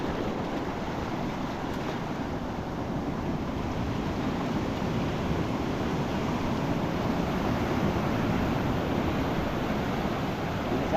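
Big ocean waves surge and break in a steady, loud broadband wash that roars on without pause, close by on an exposed spot with wind buffeting the microphone.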